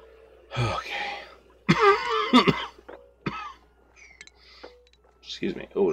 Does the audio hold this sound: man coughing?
yes